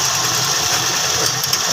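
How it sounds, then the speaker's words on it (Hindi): A Suzuki Mehran engine, just back from a carburetor service, idles at low RPM with a steady, even hum and a slight vibration. It runs loud and close with no talk over it. "इंजन कितना स्लो कर दिया हमने"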